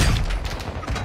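Rapid video-game gunfire bursts during a live multiplayer match, loud and dense for about a second with overlapping cracks and booms, no voices over it.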